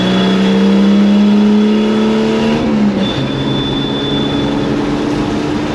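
A turbocharged six-cylinder car launches on a 0-60 run with a loud, rising engine drone, then a brief dip in pitch near the middle before it pulls on steadily. There is no talking.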